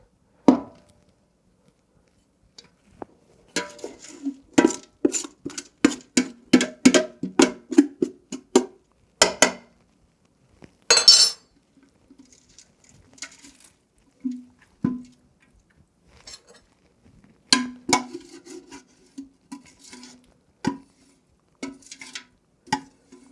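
Irregular bursts of scraping and knocking as madder root residue is scraped out of a dye pot, close and fairly loud, with quiet gaps between strokes and no talk.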